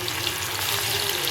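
Masala-marinated squid sizzles in hot oil in a kadai, giving a loud, steady, close frying hiss with no voices.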